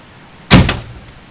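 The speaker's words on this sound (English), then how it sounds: "So I'm gonna get my storm doors closed." Storm doors on a camping vehicle swung shut at a campsite before rain, a single close, loud slam-like thud with a short rattle that fades within a fraction of a second.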